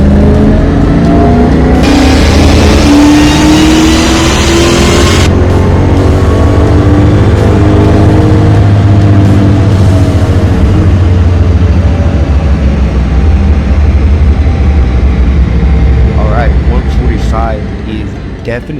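Dodge Hellcat V8 fitted with an aftermarket intake, revving hard on a dyno: a loud sustained roar that climbs in pitch through the run, with a supercharger-like whine, then eases off at the end.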